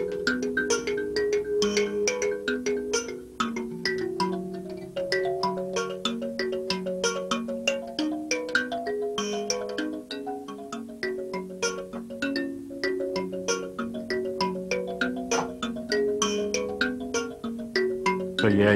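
An mbira plays a continuous, busy pattern of plucked metallic notes, with a rapid rhythmic rattle or buzz and cycling melodic figures that run steadily throughout at an even loudness.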